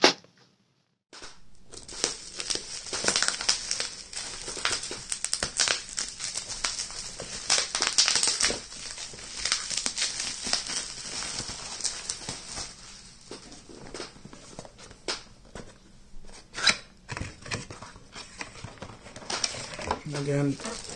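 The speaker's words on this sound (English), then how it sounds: "Now let's unbox the lens." Camera lens being unboxed, with packaging and paper documents handled throughout: steady crinkling, tearing and rustling of paper and cardboard up close, with speech at times alongside.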